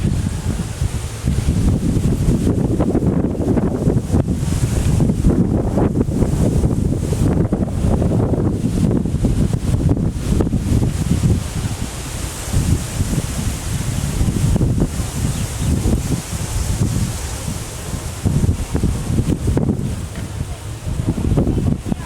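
Strong wind buffets the microphone continuously in loud, rumbling gusts outdoors during a beehive inspection.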